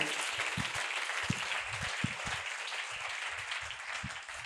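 A church congregation clapping hands during a worship service, a broad wash of many claps with rhythmic low thumps beneath, heard at moderate distance for the whole stretch.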